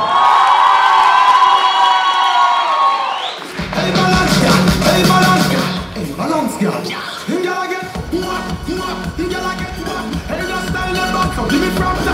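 A student audience at a university KVN comedy festival cheers, whoops and shouts for a geography faculty team, a loud, dense crowd roar that fills the whole stretch.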